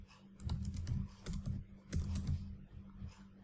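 Fingers type on a computer keyboard while entering an Android button ID, a short close burst of soft irregular key clicks with no talk.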